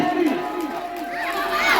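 A crowd cheers and shouts at a village tug-of-war contest between rival teams, a dense roar mixed with an excited announcer's voice over the top.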